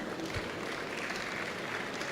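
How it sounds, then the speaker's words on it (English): Continuous applause from an audience, a dense even patter of many hands clapping throughout. "Please, a round of applause for NIPS."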